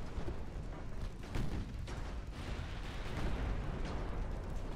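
A torpedo strikes a warship in the naval battle game Ultimate Admiral Dreadnoughts, giving rumbling, booming blasts with several sharp bursts over a steady roar of battle, loud and close.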